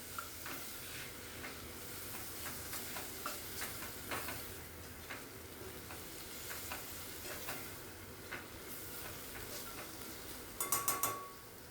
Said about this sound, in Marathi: बटाट्याच्या बारीक फोडी करून घेतल्यात ना, त्या घालायच्या त्याच्यात. आणि मिक्स करून घेऊयात आपण.